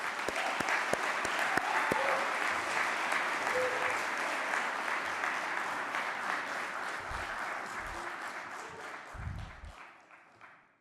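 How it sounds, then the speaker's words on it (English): A championship audience at a national civics bee applauds the judges as they come on stage. The clapping is sustained and even, and it fades away near the end after some brief thuds at the start. "Round of applause for our judges."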